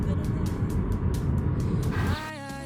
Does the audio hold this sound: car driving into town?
yes